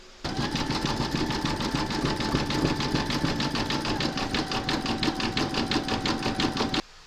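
Embroidery machine satin stitching around blue appliqué fabric, a loud, even rapid rhythmic chatter that starts and stops cleanly with no talk.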